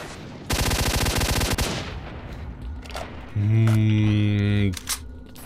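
Gunfire in STALKER: Shadow of Chernobyl: a fast automatic burst of closely spaced shots lasting about a second, followed by a lower booming shot and a loud droning hum, all near and loud.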